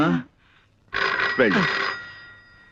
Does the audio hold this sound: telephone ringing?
yes